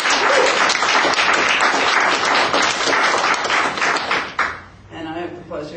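Congregation applauding in a chapel to encourage a minister in training, dense sustained clapping from a roomful of people that fades out near the end, with voices mixed in.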